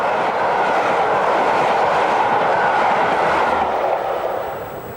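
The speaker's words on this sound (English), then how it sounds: "The train passes Gleneagles 2 hours late as train engine 37152 had run out of fuel" Royal Scotsman luxury train hauled by a class 37 diesel locomotive passing Gleneagles, Scotland, in 1994; a steady, loud rolling rumble of carriages sustained throughout, easing slightly at the end, with no voices.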